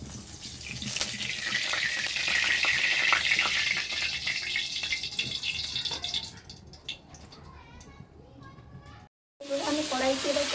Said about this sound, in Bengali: এবার আমি পনিরটাকে কষে নিচ্ছি